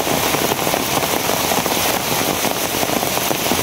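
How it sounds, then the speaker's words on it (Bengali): Heavy rain falls in a rural Bangladeshi farm setting as a loud, dense, unbroken hiss that stays steady and close throughout. "কি বৃষ্টি রে কি বৃষ্টি"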